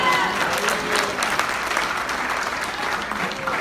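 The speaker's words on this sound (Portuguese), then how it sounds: "Dá para aplaudir o Senhor?" Sustained applause fills a church congregation during a sermon, a dense steady wash of many hands clapping at once with faint crowd murmur beneath.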